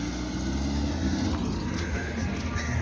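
A car pulling away on a rural village road, a low engine rumble and tyre noise that stays fairly steady and moderately near, with no talk over it.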